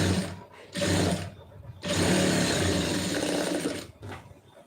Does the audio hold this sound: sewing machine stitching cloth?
yes